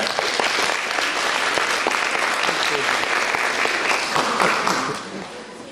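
Audience at a Polcon 2016 cosplay contest in Wrocław applauds an award winner, a loud sustained clapping from a large crowd that fades slightly near the end.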